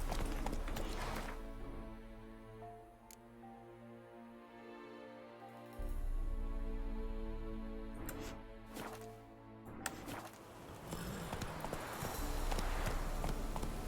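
Galloping horse hooves from The Witcher 3, a steady drumming run over a droning game soundscape with music, growing louder toward the end.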